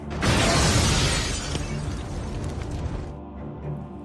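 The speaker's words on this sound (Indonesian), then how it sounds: "Bom api yang gagal dilemparkan kembali meledakkan timbunan bahan peledak mereka, menghasilkan ledakan yang fatal." A film explosion of stockpiled explosives set off by a thrown-back fire bomb bursts loudly with a shattering crash, then rumbles and crackles with debris before fading.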